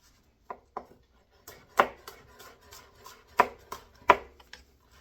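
Knife slicing through cored produce on a cutting board while preparing piroshki filling; sharp, close chopping taps come in uneven bursts, a couple of light cuts followed by several louder thumps against the board.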